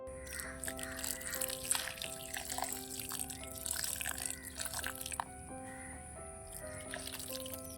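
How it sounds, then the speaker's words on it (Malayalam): Water poured into an Aglaonema pot trickles and drips as it drains through the potting mix and out the bottom, a steady soft dribbling with scattered drips throughout, close by and fairly quiet. "വെള്ളം നമ്മളുടെ ഈ പോട്ടിനടിയിൽ കൂടി ഇങ്ങനെ താഴത്തേക്ക് ഒഴുകി വരണം"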